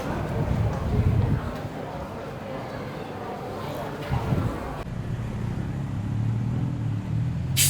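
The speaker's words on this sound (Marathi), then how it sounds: "तर आम्ही टुकटुक मध्ये बसलेलो आहे" Tuk-tuk ride through Bangkok streets, with a steady engine and road rumble, wind buffeting the microphone and traffic noise around, under occasional talk.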